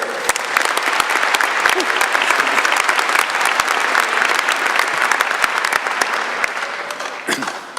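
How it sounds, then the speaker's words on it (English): A commencement audience gives a sustained round of applause, dense many-handed clapping filling the hall evenly from start to finish, with no talk over it. "Please join me in giving another round of applause for Dr. Mehmet Gürs."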